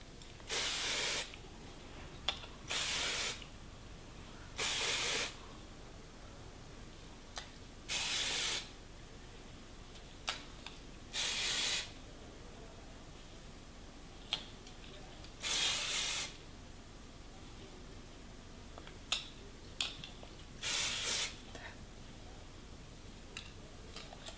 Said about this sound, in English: I am going to apply some dry shampoo because I always like a little bit of volume